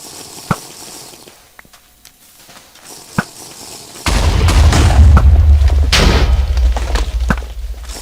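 A TNT explosion in the GolemWars minigame sets off a loud, sudden boom, and a dense roaring rumble follows it for several seconds. A few sharp thuds come before the blast.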